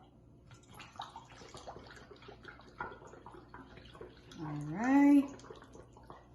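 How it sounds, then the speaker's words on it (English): Water poured by a child through a held funnel at a virtual Bible school activity, a soft trickling splash swelling into a louder gurgling rush near the end, with adults and children talking over it. "we need to pour the water next"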